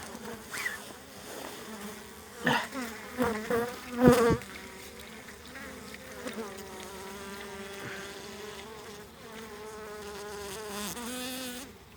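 A crowd of hungry honeybees hums inside a hive while being fed syrup in an area of heavy agricultural spraying, a dense steady buzz with loud close passes of individual bees early on, no talking.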